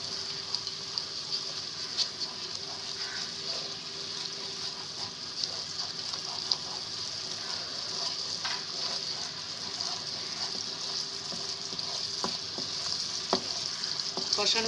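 Masala sizzles steadily as it is sautéed in a pan for a Nilotica fish fry, with soft stirring scrapes and small spits rising over the constant hiss. No one speaks.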